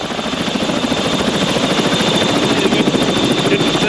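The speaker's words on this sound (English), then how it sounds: "I'm going to be flying up onto the tops with Matt Newton from Precision Helicopters" Helicopter from Precision Helicopters flying over Hokitika Gorge in South Westland, New Zealand, a loud, steady, close rotor thrum with rapid blade chop throughout, no voices.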